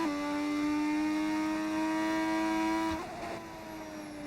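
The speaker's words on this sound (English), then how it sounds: "This engine sound, it's great" High-pitched retro Formula 1 engine in the racing game F1 25, screaming steadily at high revs, then dropping sharply as the car shifts or lifts off, with the whine fading.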